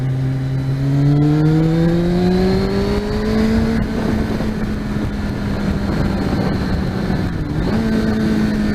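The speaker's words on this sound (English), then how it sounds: "She does sound nice with a little stubby exhaust." A Kawasaki ZX-6R sports motorcycle engine with a stubby exhaust revs up with a rising, raspy whine, then settles into a loud, steady drone with a brief dip near the end.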